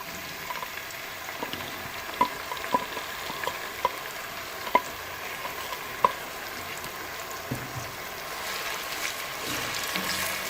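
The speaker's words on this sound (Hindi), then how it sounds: "घी गरम करते हैं और इसमें 3 अदद प्याज दरमियाने साइज के जो पहले से काट के रखी हुई है वो डालते हैं" Three medium chopped onions fry in hot ghee with a steady, soft sizzle, punctuated by a few sharp clicks and scrapes of stirring.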